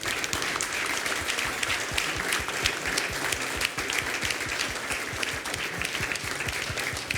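Steady audience applause at the Innopolis Expo 2021 for a guest speaker, many hands clapping in a continuous dense wash at moderate distance with individual claps poking through.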